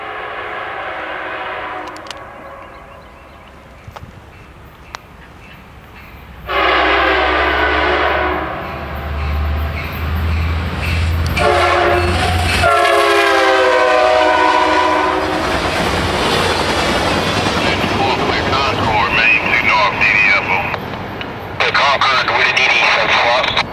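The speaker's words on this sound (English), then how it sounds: "Next up is Amtrak 74, northbound from Charlotte, North Carolina to Raleigh" Amtrak 74, a northbound passenger train from Charlotte to Raleigh, North Carolina, roars past close by with rumbling wheels and loud, repeated horn blasts, while a person talks over the noise.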